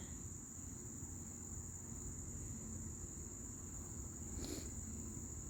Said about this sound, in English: You can listen to the crickets, the birds, the bees, and the tractor in the background